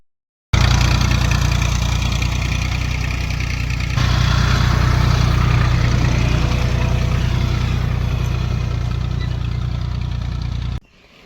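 A tractor engine idles steadily and loudly close by for about ten seconds, its low, even rumble starting and stopping abruptly, with no voices.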